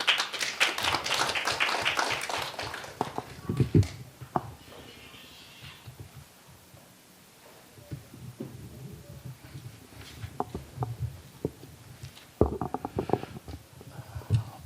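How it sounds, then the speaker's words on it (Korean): Applause at a policy forum as a former university president is welcomed to the stage: loud, close clapping at the start that fades out, then a quieter stretch with shuffling before another short burst of claps. "큰 박수 부탁드립니다."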